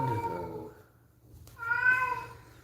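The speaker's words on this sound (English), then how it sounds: "my cat is disturbing me" A pet cat meows twice nearby, first a low drawn-out call and then a higher, brighter one after a short pause, with no talking.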